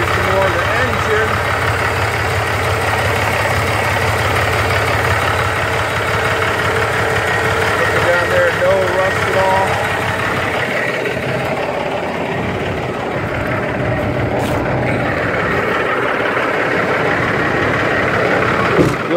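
Diesel engine of a 2006 Volvo day cab truck idling steadily close by, a continuous low rumble with a faint knocking texture that holds through the whole stretch, with a brief dip partway through.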